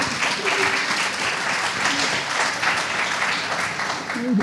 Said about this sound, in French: je pense que vous pouvez nous applaudir quand même